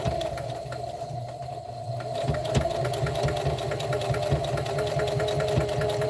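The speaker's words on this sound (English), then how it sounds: "I'm going to sew down my first side" Sewing machine stitching down the side of a dish drying mat, a steady close mechanical hum with rapid needle ticking that grows slightly louder after a couple of seconds.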